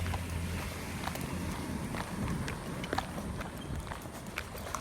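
Sheep hooves walking on a sidewalk, a steady patter of light clopping steps with occasional sharper taps, fairly close, over outdoor background noise.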